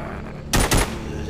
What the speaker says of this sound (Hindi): फिर इसके हाथ में गन आ गई और फिर ये सबको मारता है ज़ॉम्बियों से बचने के लिए